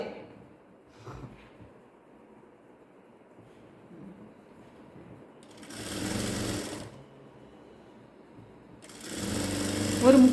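A sewing machine stitches a ladies' straight pant in two bursts, each a rapid mechanical chatter of one to two seconds, separated by quiet handling and faint rustling.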